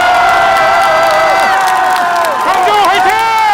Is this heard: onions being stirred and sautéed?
no